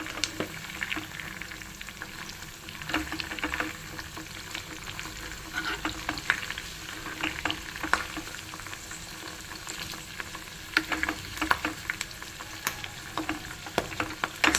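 Tempering of spices and garlic sizzling in oil in a pan for tomato pickle, with a steady crackling fry broken by repeated stirring scrapes, close and fairly quiet.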